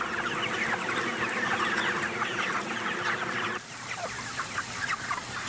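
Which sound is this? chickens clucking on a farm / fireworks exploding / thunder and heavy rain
chickens clucking on a farm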